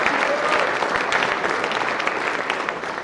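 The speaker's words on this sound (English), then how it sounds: "Let's give Adam a round of applause" At a school winter sports awards assembly, the audience claps for the team trainer, a steady crowd applause with scattered sharper claps that eases slightly toward the end.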